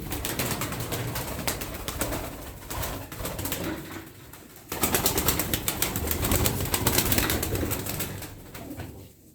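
Tumbler pigeons coo and shuffle close by, with wing flutters and rustling in a steady murmur that grows louder and busier midway through.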